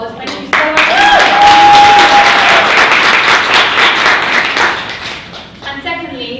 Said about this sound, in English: I just want to give her a big round of applause